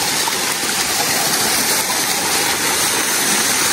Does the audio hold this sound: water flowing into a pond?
yes